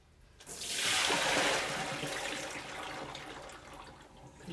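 Soybeans rinsed under running water in a colander, a close, steady rush of tap water pouring over the beans for several seconds, strongest early and then easing slightly, with no talk.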